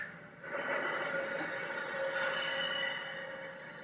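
Train ride ambience from the anime Death Note: a steady, close rumble of a moving train carriage with wheel hum and a faint high squeal, continuous throughout with no talk.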